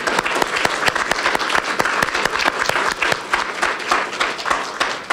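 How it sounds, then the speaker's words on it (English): Audience applause at the opening of a fair housing exhibit at a central library: brisk, sustained clapping from a gathered crowd, fairly close and continuous throughout, with no talk over it. "a big round of applause"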